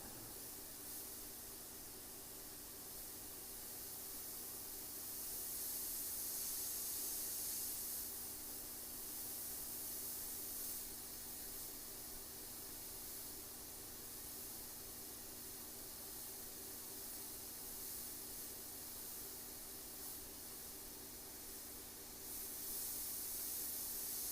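Freehand airbrushing for a chrome-look finish gives a steady, faint airy hiss that runs unbroken throughout, with no talk over it.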